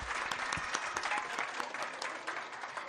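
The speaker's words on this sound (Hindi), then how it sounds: "एक बार फिर तालियां हो जाए।" Audience applause at a school annual day function, a sustained wash of clapping from a crowd that carries steadily for about three seconds at moderate distance, without talk.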